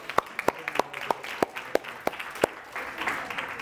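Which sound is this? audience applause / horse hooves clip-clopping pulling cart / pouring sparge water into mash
audience applause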